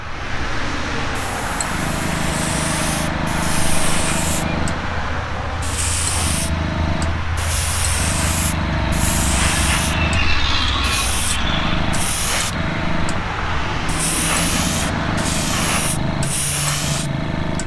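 A second coat of paint sprayed from a can, loud close hissing bursts that start and stop in repeated passes of one to two seconds, with brief gaps between them.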